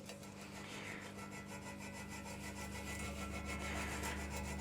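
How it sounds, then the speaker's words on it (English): Edges of a Lamborghini V12 engine case are deburred with a hand tool, producing a faint, continuous rasping scrape in rhythmic strokes throughout. "some cases haven't, so we normally just go around and deburr them"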